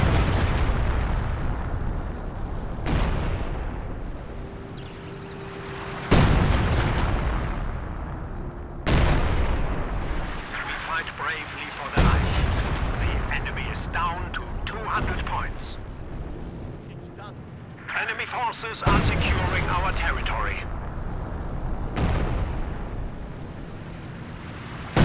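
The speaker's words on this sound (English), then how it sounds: "Short range barrage from the Priest on these Grands." A short-range artillery barrage from a Priest self-propelled gun in a strategy game lands as a series of loud booming impacts every few seconds, with rumbling aftermath, while a commentator talks over them.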